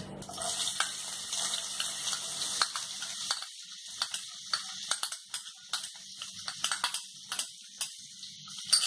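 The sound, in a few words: frying chopped onion in a pan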